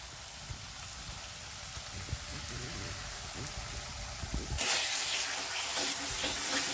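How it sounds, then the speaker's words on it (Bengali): Kabuli chickpea ghugni sautés with meat masala and tomato sauce in a pan, a soft continuous sizzle with occasional stirring knocks that swells into a brighter, louder hiss near the end. "এবারে এটাকে আমি কষতে থাকবো।"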